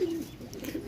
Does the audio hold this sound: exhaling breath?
no